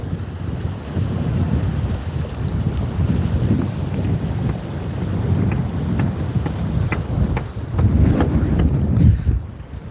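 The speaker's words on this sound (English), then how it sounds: "It's a little windy out here today." Outdoor wind buffeting a microphone, a steady rumbling gusty roar with irregular thumps and surges that grow stronger near the end.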